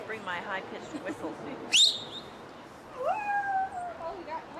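A shrill, rising whistle-like tone cuts in briefly, then a second sustained high whistle glides upward and holds, over background voices and cat-like meowing.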